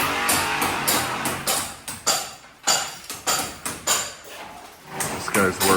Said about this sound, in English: You can hear the hammer drill in the background. They're drilling the holes.